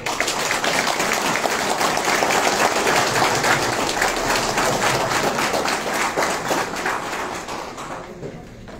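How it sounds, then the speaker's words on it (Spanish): A live audience at a political presentation in Tacna bursts into loud, sustained applause, dense clapping filling the space for several seconds before tapering slightly at the end. "Fuertes palmas, por favor."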